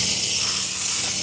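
Steam carpet extractor working on the carpet of a Toyota Highlander, giving a steady, close broadband hiss without a break for just over a second.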